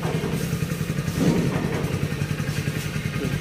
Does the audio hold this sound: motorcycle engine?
yes